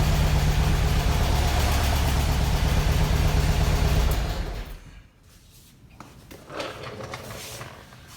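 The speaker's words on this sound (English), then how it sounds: "So the engine is running" A 1971 Volkswagen Super Beetle engine after an alternator conversion, running at a steady idle with a loud broadband drone that drops away abruptly midway, leaving quieter rumbling and faint noises.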